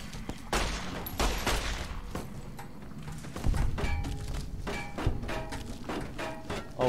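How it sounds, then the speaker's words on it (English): Gunfire exchanged in the video game Fallout New Vegas on the road to Novacc, a dense run of overlapping shots and thudding impacts at close range, with brief spoken remarks here and there. "Stop shooting."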